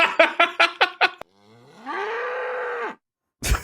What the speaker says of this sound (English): You don't have the cow soundbite queued up.